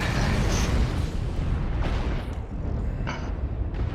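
Missile blasts in MechWarrior Online, a steady heavy rumble of booming impacts with several sharper bursts near the start and middle and toward the end, loud and continuous without talk.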